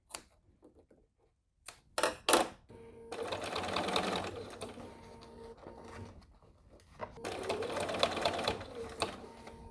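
A sewing machine stitches a bag gusset in two sustained whirring bursts, each preceded by a few sharp clicks and handling knocks, close and clear.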